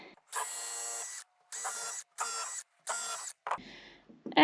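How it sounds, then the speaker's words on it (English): A power drill bores into wooden tongue and groove boards at an off-grid build, running in four separate bursts of roughly half a second to a second each, with short pauses between them, close and fairly loud. "Then we do some more drilling."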